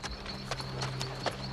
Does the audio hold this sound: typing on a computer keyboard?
no